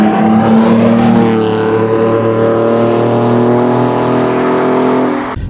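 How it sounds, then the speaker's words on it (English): A BMW E46 325ci with a modified loud exhaust holds a steady, loud, droning engine note with strong low harmonics, close by, before the sound cuts off abruptly at the end. "The car sounds really nice"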